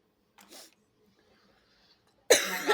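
Two allergy coughs, a soft short one first, then after a pause a sharp, loud, harsh cough close by.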